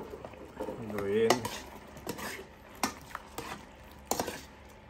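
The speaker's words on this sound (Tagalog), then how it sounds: "Haluin." Food seasoned with pepper being stirred in a cooking pot, with several scraping and clinking strokes of a utensil against the pot over a soft simmer, and a short stretch of voice near the start.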